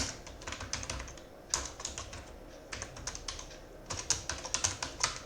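Steady typing on a computer keyboard while writing a C program, close and clear, with irregular clusters of light key clicks and short pauses.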